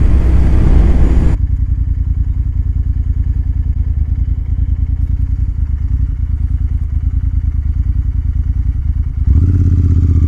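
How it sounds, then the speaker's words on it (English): Motorcycle engine at night in near-freezing cold, loud and steady with a pulsing rumble throughout, opening and closing with heavier revving bursts; no talk. "That's why I'm riding the bike."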